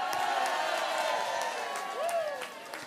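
Crowd applause and cheering for a carnival band at a Limburg carnival song festival, a dense steady roar of clapping and whoops with a whistle-like tone over it, brief and full.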